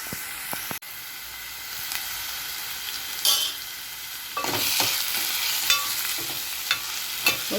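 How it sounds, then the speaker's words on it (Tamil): Onion and tomato sauté in a pan for a paruppu urundai kulambu base, a steady close sizzle with bursts of stirring scrapes, louder and busier in the second half, with no talk. "வெங்காயம், தக்காளி எல்லாம் போட்டு வதக்கிட்டேன்."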